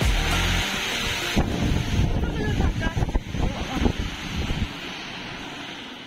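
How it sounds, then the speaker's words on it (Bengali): Cyclone Remal's strong wind and rain batter the microphone in loud, gusting roars and rushes that ease off toward the end, with muffled voices briefly in the mix. "প্রচন্ড ঝড়ে হাওয়ার বৃষ্টিতে ভিজিয়ে"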